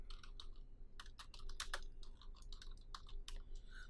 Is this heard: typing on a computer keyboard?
yes